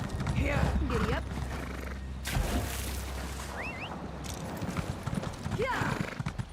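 In The Elder Scrolls Online, a horse's hooves clip-clop in a steady rhythm while the horse whinnies several times and someone talks over the top.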